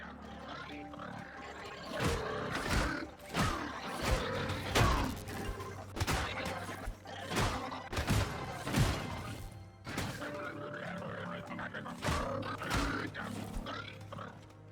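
Robots rampage through a farm in the game Scrap Mechanic, with repeated heavy crashes, smashes and grunting mechanical roars in close succession, mixed with game sound effects throughout.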